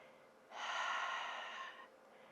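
A calm, steady breath drawn while holding a yoga pose, rising as one soft airy swell for about a second and a half and then easing back into a quiet room with no talking.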